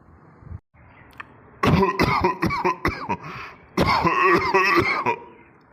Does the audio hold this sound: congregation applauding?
no